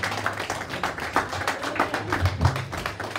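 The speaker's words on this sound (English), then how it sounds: "Come on, clap your hands and give God praise." A crowd claps hands in a steady rhythmic beat, moderately loud and sustained over a low musical hum.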